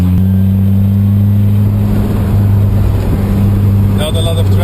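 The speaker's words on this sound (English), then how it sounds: "We are here driving on our first almost single track road." A Lotus Exige sports car drives along a narrow single-track road in Norway, its engine a steady loud drone with strong low hum throughout; a voice talks over it.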